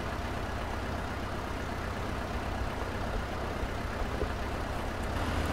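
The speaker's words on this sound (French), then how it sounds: "Écoutez aussi le bruit du moteur" Steyr tractor engine running in a modded farming video game, a steady low idling drone from inside a soundproofed cab, continuous and even throughout with no talk.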